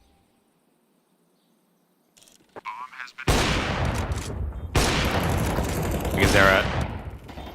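AWP sniper rifle gunfire and other weapon noise in a professional Counter-Strike esports match bursts in loud and dense after a quiet start, with an excited commentator talking over the action.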